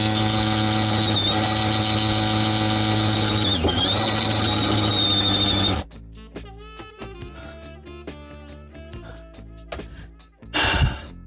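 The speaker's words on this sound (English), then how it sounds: "we're going to go ahead and drill this bad boy out" A power drill bores through material inside a semi truck during an inverter install, giving a loud, steady whine for about six seconds before it stops, followed by quieter clatter and handling noises.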